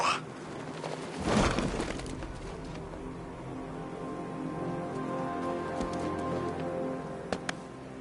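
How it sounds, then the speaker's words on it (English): Steady rain falls on rooftops in the video game Batman Arkham Knight, an even hiss of drops on surfaces with a louder gust early on and faint bird-like coos underneath. "What's with all the rain?"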